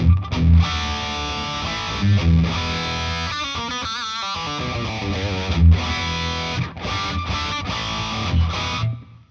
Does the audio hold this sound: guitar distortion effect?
yes